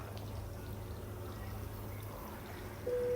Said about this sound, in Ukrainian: Нажимаємо кнопочку і починається змивання води.